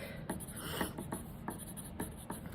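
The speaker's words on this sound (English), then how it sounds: "I'm just gonna write MH" A pencil writes initials on paper in a classroom art project, a series of close, quiet scratchy strokes in short bursts with brief pauses between them.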